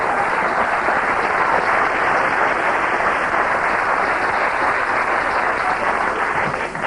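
Studio audience on a late-night comedy show applauds steadily for several seconds, a dense, loud wash of clapping that holds its level throughout with no talk over it.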